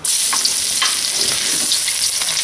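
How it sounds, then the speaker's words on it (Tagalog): Garlic sautés in hot oil in a pan, a loud, steady, bright sizzle that runs throughout with no talking, broken only by a few faint clicks of stirring. "magpapainit lang tayo ng oil dito sa pan. So, magigisa na tayo ng bawang."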